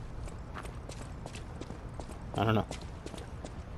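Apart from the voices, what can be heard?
horse hooves clip-clopping in the video game Lies of P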